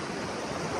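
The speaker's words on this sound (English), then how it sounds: "So we just had to wade across a couple streams." Cold mountain stream water rushes steadily during a hike, a broad, even wash of flowing water close by with no pauses.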